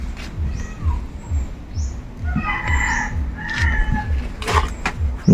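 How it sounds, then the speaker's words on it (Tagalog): Chickens clucking and a rooster crowing nearby, with scattered bird calls over a low rhythmic background thumping. "may manok pa dito"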